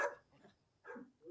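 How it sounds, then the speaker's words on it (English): A dog in a war film barks twice, short and moderately close, with a quiet gap between the two yips and no talk over them. "Cute dog."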